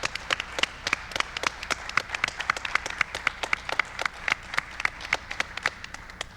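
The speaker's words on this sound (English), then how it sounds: "Please give a round of applause to Dr. Osmond" Scattered clapping from a small audience at a public forum on addiction, sharp distinct claps in an uneven steady patter that runs throughout without tapering.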